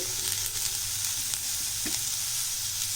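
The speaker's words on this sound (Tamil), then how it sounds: "இப்போ இதையும் நல்லா சேர்த்து லைட்டாக வதக்கிடலாம்" Chopped tomato, onion and carrot sautéing in a pan for a wheat-flour dish, a dense continuous sizzle with a brief stir, close and loud, with no talk.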